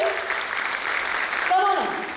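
Audience applause at a school graduation ceremony, a steady wash of clapping filling the hall for about two seconds, with a voice briefly audible over it near the end.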